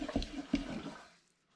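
Two litres of spring water splash and gush onto brewing grains in a pan, a close, steady pour with a couple of heavier splashes that fades out within about a second, no talking.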